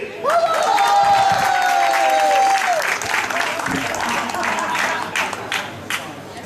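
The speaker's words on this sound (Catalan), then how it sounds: "Un fort aplaudiment per a... Sí!" Audience applause and cheering for a rock band at a bar-restaurant performance, loud and sustained dense clapping with a shouted whistle-like cry early on, fading slightly toward the end.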